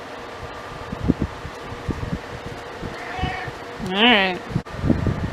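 An electric fan blows steady air on a humid sunny day, a constant broadband whoosh close to the microphone, with a voice speaking briefly and some scattered bumps and rustles over it.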